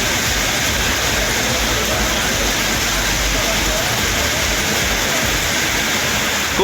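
Heavy rain driven by strong gale winds in Kovilpatti, Tamil Nadu, a steady loud broadband roar of downpour and gusts filling the whole stretch with no pauses.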